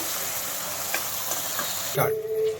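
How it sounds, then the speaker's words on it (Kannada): Onion and tomato frying in oil in a pan for chana gravy, a steady, moderate sizzle with a few stirring knocks and a brief clatter near the end, close, with no talk. "ಟೊಮೆಟೊ ಚೆನ್ನಾಗಿ ಬೇಯಲಿ ಒಂದು 2 ನಿಮಿಷ"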